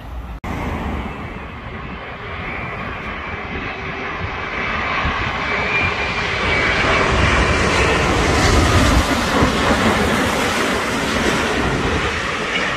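A British Airways Boeing 787 airliner passes near an airport, its jet engine roar swelling steadily and loudly as it goes by.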